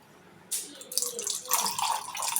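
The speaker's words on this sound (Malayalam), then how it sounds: "നമ്മൾ നാരങ്ങ വെള്ളമാണ് ഒഴുകണത്." Lemon juice pours in a thin liquid stream into a container, a soft splashing trickle that starts abruptly and runs on unevenly for a couple of seconds, close and fairly quiet.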